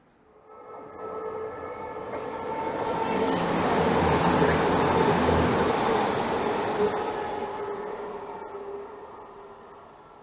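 A late-running passenger train passes along the seafront railway at Dawlish, its roar swelling from quiet to a loud, hissing rush at close range and then easing away, heard alone without talk.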